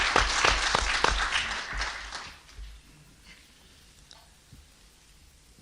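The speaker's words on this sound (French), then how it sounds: "Je crois qu'il y a à applaudir à ce texte génial." Lecture audience claps after a poem reading, a dense burst of applause for about two seconds that quickly thins to a few scattered claps and then near quiet.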